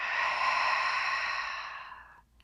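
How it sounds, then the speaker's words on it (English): One big open-mouth exhale during a yin yoga session, a close, breathy rush of air that holds steady and then fades out over about two seconds. "Big open mouth exhale."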